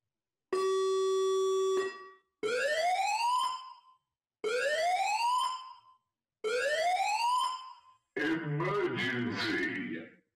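A loud siren sounds in five separate blasts: one steady tone, three rising wails, then a harsher burst, each with a short silence between.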